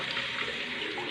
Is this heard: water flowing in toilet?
yes